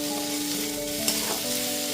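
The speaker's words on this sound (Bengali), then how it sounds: "এরপর সবজিগুলোকে খুব ভালো মতো নাড়াচাড়া করে নিচ্ছি।" Partly softened drumstick and pumpkin pieces stirred in a hot pan after cooking covered: a continuous dense sizzle with a faint scrape of the utensil, over a steady background tone, no speech.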